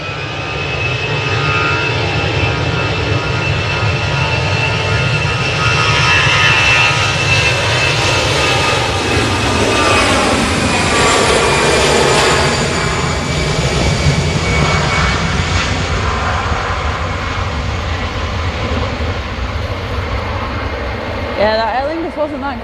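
An Aer Lingus airliner lands at Manchester Airport in the early morning, its engines roaring loudly and steadily for a long stretch as it passes nearby, with people talking excitedly over the noise.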